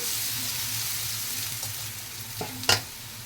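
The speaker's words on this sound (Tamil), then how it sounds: "இப்போ நம்ம ரெடி பண்ணி வச்சுருந்த ரவையை வந்து சின்னதாக இதில் தோசை மாதிரி ஊற்றிக்கலாம்." Rava and carrot batter is poured onto a hot oiled pan over medium flame, giving a steady close sizzle with a few soft knocks and a sharper clatter near the end; no talking.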